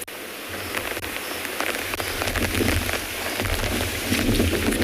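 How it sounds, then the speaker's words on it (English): Heavy rain pouring down during an afternoon safari drive in South Africa, a steady dense hiss of drops that grows louder over several seconds, with a low engine-like hum underneath. "I don't know if you can hear how heavy that rain is getting"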